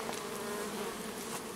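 Honey bees of the Carpatica strain buzz steadily and densely at close range around a mini hive frame full of pollen, a continuous droning hum.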